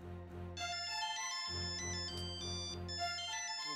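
A phone rings with an incoming call, a melodic electronic ringtone repeating its tuneful phrase clearly and steadily, with a brief gap partway through, and no voices over it.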